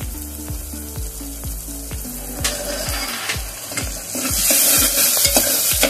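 Tomatoes frying with salt and turmeric in a pan for Mumbai-style pav bhaji, stirred in a steady rhythm of regular scraping strokes over a constant sizzle that swells louder toward the end.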